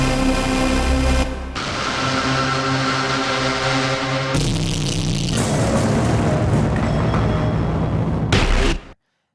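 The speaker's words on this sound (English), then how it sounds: "I'm going to start with the impacts. These are like the big stuff you hear in trailers, just the enormous sounding hits" Several cinematic trailer impact hits from the Hybrid Injection Kontakt sample library play one after another, each a huge, booming, distorted strike that sustains with a rumbling tail before the next begins, ending in abrupt silence.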